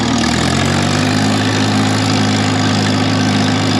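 A Farmall 706 Hi-Clear tractor engine pulling away from a stop in 4th gear, a steady, loud, close diesel drone with a low rumble that holds constant throughout.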